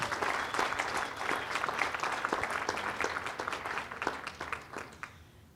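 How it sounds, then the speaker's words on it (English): Applause at a panel discussion honors a long-serving NDSU employee, a room of steady clapping that swells and then thins out toward the end, with no talk over it. "If we could give him a round of applause."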